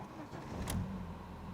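An old BMW E46 engine cranks briefly and catches, settling into a low rumbling idle, heard from inside the car at moderate volume.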